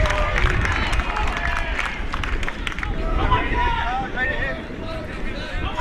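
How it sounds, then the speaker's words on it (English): Sacramento City fans at a junior college baseball game against Orange Coast make a steady crowd roar with rhythmic chanting voices, a dense babble of many people that stays loud and continuous throughout. "Sac City crowd voicing their opinion"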